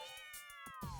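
A cat meows indoors in a single drawn-out, rising then falling call lasting about a second, close and clear, with faint background noise and no talking.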